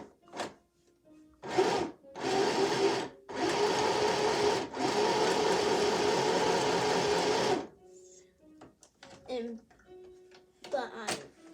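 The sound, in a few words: sewing machine stitching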